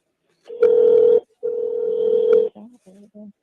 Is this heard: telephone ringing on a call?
yes